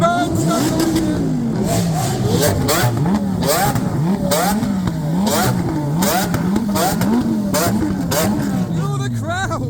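A car engine revs repeatedly amid the crowds of Piccadilly Circus in London, its pitch rising and falling in loud, close surges over steady street noise.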